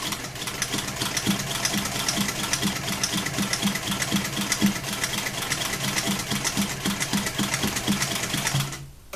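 A sewing machine stitches a gimp buttonhole, its needle hammering in a fast, steady rhythm that runs close and loud without pause, then stops abruptly at the end.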